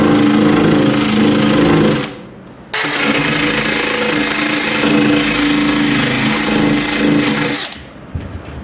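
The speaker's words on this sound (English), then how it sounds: "So we'll just shave a little bit down here, and that's it." A power tool shaves down a metal dresser drawer rail in two loud, steady grinding bursts with a high whine, separated by a short pause and ending abruptly.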